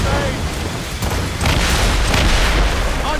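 Ship cannons firing in the video game Assassin's Creed Rogue: loud, heavy booms swell into a dense, continuous roar of cannon fire and battle noise, with shouted voices mixed in.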